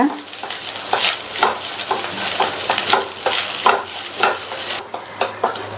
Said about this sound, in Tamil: தேங்காய் துருவலை சேர்த்து நல்லா வதக்கிக்கலாம்.